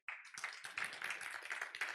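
Conference audience at a Python talk claps in a vote, a quiet, thin scattering of hand claps starting abruptly and continuing unevenly for under two seconds.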